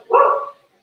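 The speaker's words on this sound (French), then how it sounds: "c'est mes chiens qui sont en panique sur..." A panicked dog lets out a single sharp bark, loud and close, then silence.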